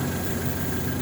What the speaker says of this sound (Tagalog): Ganda ng andar ng makina